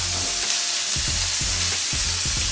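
A burger patty sizzles loudly in a pan, a dense continuous crackle close by, punctuated by a few rhythmic scraping pulses, with no voices.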